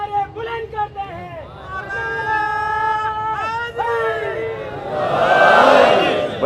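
A large gathering at a Shia majlis chants salawat together, sustained tonal voices in unison rising and falling, then swelling into a loud, noisy crowd surge near the end.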